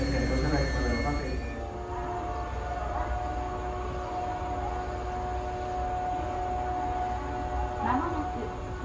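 A train rumbles into platform 2 of a Japanese station with a low mechanical roar, while a public-address voice announces its arrival in Japanese over the noise.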